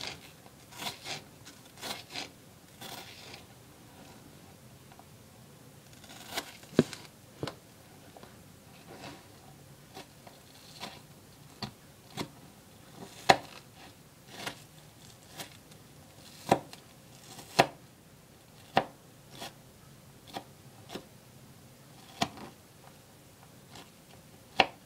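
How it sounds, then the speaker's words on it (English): An apple slice is chopped into small pieces with a knife on a board: a series of sharp, separate taps in an irregular rhythm, close and fairly quiet, with no talking. "you just want to chop it to small pieces like this"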